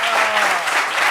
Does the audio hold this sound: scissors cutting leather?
no